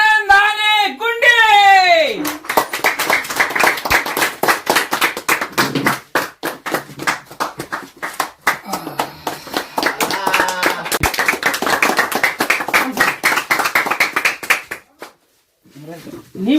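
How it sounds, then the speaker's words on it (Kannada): An audience on a comedy show claps to welcome a guest, giving dense, close applause that runs for about twelve seconds. Someone speaks over the opening, and the applause fades near the end. "ನಿಮ್ಮೆಲ್ಲ ಚಪ್ಪಾಳೆಯ ಮೂಲಕ ವೆಲ್ಕಮ್ ಮಾಡಿ ಮಿಸ್ಟರ್ ಆನಂದ್ ಆನೆ ಗುಂಡಿ"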